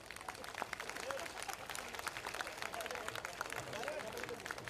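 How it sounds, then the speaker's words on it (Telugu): Audience applause at a spiritual discourse in Srikakulam, a dense steady wash of many hands clapping throughout, sounding somewhat distant and diffuse. "మొహమాటం లేకుండా చప్పట్లు కొట్టండి"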